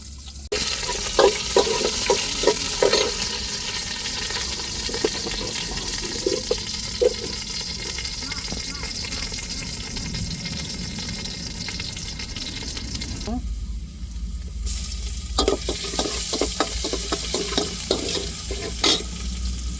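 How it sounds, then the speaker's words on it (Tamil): Onions frying in hot oil for a Tamil-style tempering (thalippu) while cooking a vegetarian fast-day meal with coconut rasam; a steady close sizzle runs throughout with stirring clatters, briefly dipping mid-way before resuming. "இப்போ தாளிச்சிருவோம் தாளிப்புக்கு வந்து வெங்காயம் சேர்த்துக்கிறோம்"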